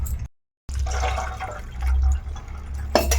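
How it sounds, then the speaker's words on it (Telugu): A glass of water is poured onto hot boiled noodles in a pan while cooking, making a close, splashing gush after a brief pause, then a liquid rush that tapers into trickling. "ఇప్పుడు ఒక గ్లాసు వాటర్ ఇలా పోసి చల్లారబెట్టుకోవాలి"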